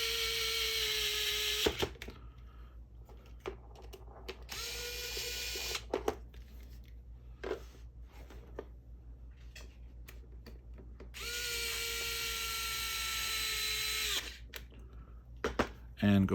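A power driver spins the original bolts back into a CEN Racing F450 quadcopter frame in two long, steady whining runs, with quieter clicks and handling noises between them.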